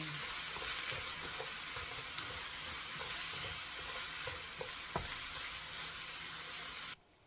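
Yaki udon noodles with sesame oil sizzle loudly in a hot pan, with scattered clanks and scrapes as they are tossed and stirred, continuous and close before cutting off abruptly.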